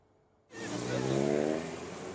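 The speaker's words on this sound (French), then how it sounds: "800 voitures qui jouent de l'accélérateur et du klaxon" Historic cars at the Montée Historique de Laon street parade, one engine firing up abruptly from near silence into a loud, close rev that swells and holds, with a rising-falling tone.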